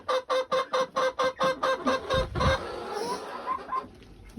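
Chickens peck rapidly at a camera before a snowstorm, about a dozen sharp rhythmic taps right against the microphone, followed by a thump, soft clucking and rustling up close.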